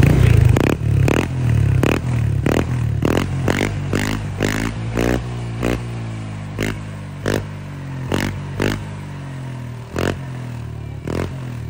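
A Honda Click scooter fitted with an ORVR version 2 stainless steel exhaust pipe, revved hard over and over. Each blip rises and falls, with a crisp popping burble in between, recorded up close with no talk.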